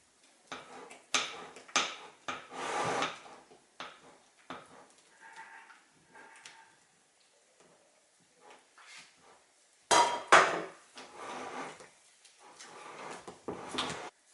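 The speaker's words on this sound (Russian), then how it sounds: "Тонкой струйкой вливаю в крем и все хорошенько перемешиваю" Cream mixture for a no-bake Oreo banana cheesecake is poured in a thin stream and stirred in a bowl, giving irregular clinks, taps and scrapes of utensil on dish, separated by short quiet pauses.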